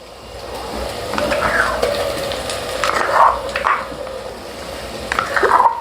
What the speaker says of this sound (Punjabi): ਪਿਆਜ਼ ਭੁੱਜ ਰਿਹਾ ਹੈ